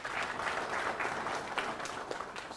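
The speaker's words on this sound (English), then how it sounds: "You can clap for yourself." Students at a university orientation ceremony applaud, a brisk, fairly faint patter of many hands clapping continuously across a few seconds, with no distinct voices.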